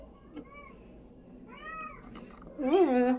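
A cat meows three times in rising, drawn-out cries, the last one loudest and closest, over a faint background murmur.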